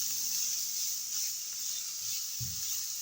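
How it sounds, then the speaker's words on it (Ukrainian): Steady, soft sizzling of onion and carrot frying in a pan, a continuous bright hiss with faint crackles, no voices. "І смажимо до готовності."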